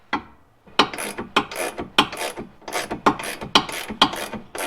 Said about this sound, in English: We'll get that started with the breaker bar.